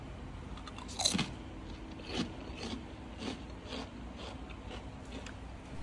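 Crisp homemade salted potato chips crunch between teeth in several separate bites, close and fairly quiet, with short pauses of chewing in between.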